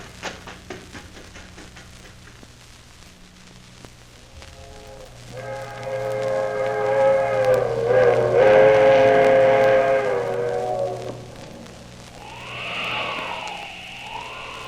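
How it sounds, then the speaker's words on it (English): A fast train rumbles past with a loud, sustained whistle blowing for a highway crossing in the middle, followed by a shorter wavering whistle as it moves on. "There's the train. Traveling fast, all right."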